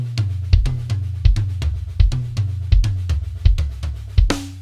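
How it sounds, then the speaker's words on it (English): Drum strokes move around the toms in a steady, repeating sticking pattern, with sharp, close, resonant hits and a cymbal crash at the end. "Second level is usually moving the right hand onto the toms."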